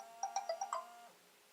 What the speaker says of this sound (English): That's just an alarm telling me to work on role-playing games tonight